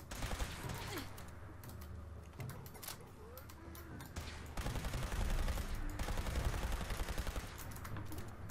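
Gunfire rattles through a match of the video game Fallout in repeated bursts of close shots, with mechanical creaks and clanks between volleys and a heavier, louder stretch of firing toward the end.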